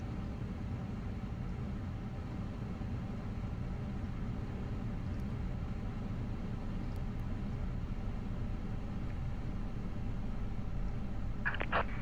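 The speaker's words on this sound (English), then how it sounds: "Oh baby, those engine sounds." A steady low drone of Airbus A350 airliner jet engines in Microsoft Flight Simulator 2020 hums continuously throughout, with a faint brief click near the end.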